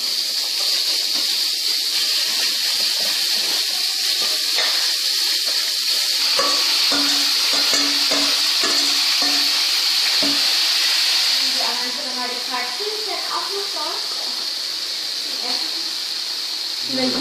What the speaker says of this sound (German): jetzt tun wir das Fleisch in die Pfanne